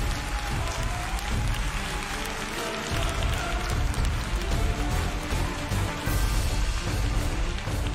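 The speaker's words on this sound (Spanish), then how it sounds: "acá en el set todos aplauden" Studio audience applause on a national television set after a dramatic performance, a dense steady wash of clapping with some crowd noise, continuous and fairly close for the whole stretch.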